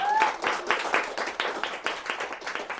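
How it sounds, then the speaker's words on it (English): Small audience at a book club literary event applauds an author, a short burst of close, individual claps from a modest crowd with faint voices underneath. "Let's just also give a big round of applause to Kirsty one more time."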